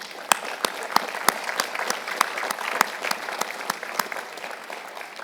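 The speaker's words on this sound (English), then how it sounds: "thank the support team with a wonderful round of applause for the supporters" An audience at Carnegie Mellon University's 120th commencement applauds, with steady, fairly soft clapping from a large hall and a few sharper, closer claps standing out through the round.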